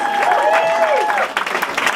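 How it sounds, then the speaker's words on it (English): Comedy club audience applauding a comedian taking the stage at The Stand, dense clapping from a crowd close by and loud, with a voice calling out over it. "Let him hear it. Keep it clapping."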